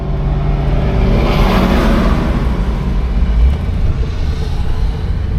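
A 1975 Oldsmobile Delta 88 on a test drive gives a steady, loud cabin rumble of engine and road noise that holds evenly throughout, with no talking.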